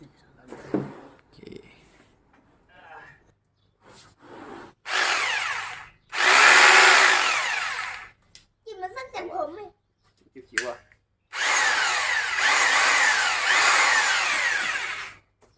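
A new Bosch electric drill triggered in bursts, a loud close whine starting and stopping several times with a long sustained run at the end, with someone talking in the gaps.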